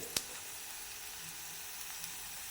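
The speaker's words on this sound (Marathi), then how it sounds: "असा हलवत राहायचा कारण जाळल्या जात नाही तो कांदा छान परतल्या जातो" Chopped onion sautéing in a pan, a quiet steady sizzle with a sharp scrape of stirring near the start and occasional faint taps.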